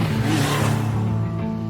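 Motorbike engine from an anime scene revving and gliding past at speed through a city at night, a steady loud mid-range engine drone with a rising whoosh, close and continuous with musical tones under it.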